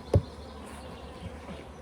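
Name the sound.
honeybees buzzing at the hive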